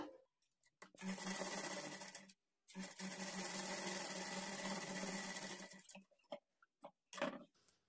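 A sewing machine stitches a dart in a blouse, running in a steady close whir for several seconds, breaking off briefly, resuming, then stopping with a few short clicks and bursts near the end.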